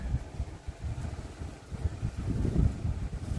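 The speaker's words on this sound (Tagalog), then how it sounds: "Lakas ng hangin." Strong outdoor wind roars and buffets the microphone in an open loft area on a hot midday, producing steady low rumbling gusts that swell toward the end, with no voices.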